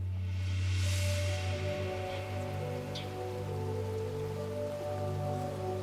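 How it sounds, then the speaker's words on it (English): Steady rain falls on a morning in Kobor, a continuous even patter under a constant low hum, with no voices. "It's a rainy morning in Kobor."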